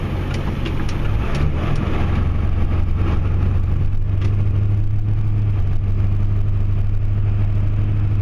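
A Ford F250 Super Duty truck with a 7.3 Powerstroke diesel engine runs during snowplowing. It gives a loud, steady low rumble that holds throughout, heard close up inside the cab.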